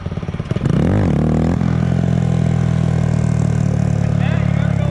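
A Kawasaki Z125 motorcycle engine revs hard off-road, rising sharply and then holding a loud, steady, close drone.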